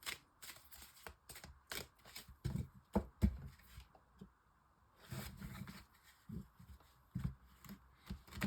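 Oracle cards being shuffled by hand in bursts of soft riffling and slapping, with a brief pause midway before the shuffling resumes, close and fairly quiet with no talking.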